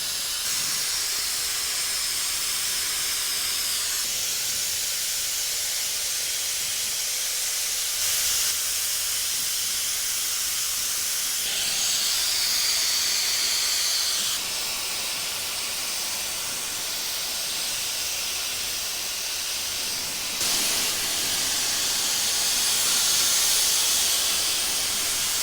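A paint sprayer coats a mid-century modern dresser in a long, steady, close hiss, broken by a few short pauses and restarts.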